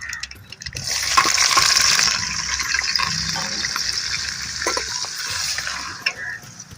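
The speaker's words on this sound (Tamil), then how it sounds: "கடுகு பொரிஞ்சு வச்சுங்க கருவேப்பிலை வெங்காயம் பச்சை மிளகாய் போட்டுக்கலாம்" Mustard seeds, curry leaves, onion and green chili fry in hot oil while pepper chicken is being made, giving a steady sizzle with stirring, louder early on, under occasional talk.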